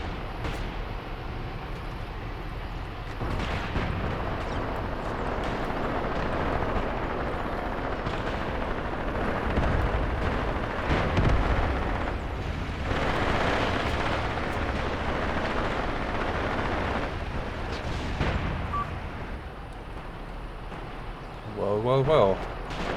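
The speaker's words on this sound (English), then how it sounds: "A firefight is starting inside the forest." Forest firefight in Graviteam Tactics Mius, with a dense rumbling wash of distant gunfire and explosions rolling on continuously. Occasional heavier blasts stand out, and someone talks over the battle.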